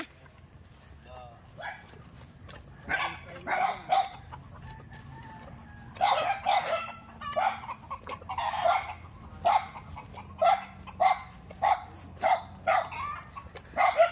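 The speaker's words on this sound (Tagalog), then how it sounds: "Matatapang yung mga aso din eh." Dogs bark in short repeated bursts, growing more frequent and rhythmic toward the end, with chickens and voices mixed in nearby, in a rural Philippine province.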